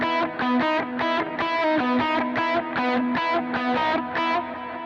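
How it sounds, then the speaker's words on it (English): An overdriven electric guitar picks a fast repeating note pattern, with notes smearing together and a faint echoing wash filling the gaps between them. "And if I add in the reverb and delay, it's going to sound like this."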